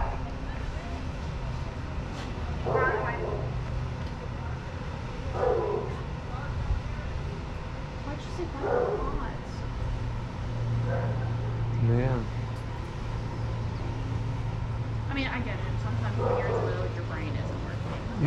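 Dog at a daycare yard near a large dumpster, barking in short yips and whimpers several times at irregular intervals, moderately distant under a constant hum.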